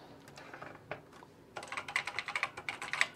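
Acorn Electron computer keyboard typing, a few scattered keystrokes at first, then a faster run of crisp, close clicks.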